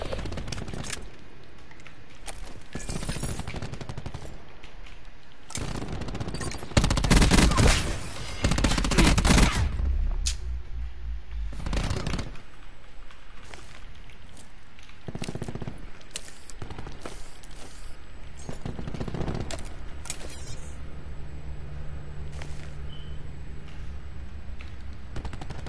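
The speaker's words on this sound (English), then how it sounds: "I shoot this one dude in the back" Bursts of gunfire in Call of Duty: Black Ops 4 multiplayer during a League match while capturing point B, with a loud cluster of shots midway and scattered lighter shots across a steady game background.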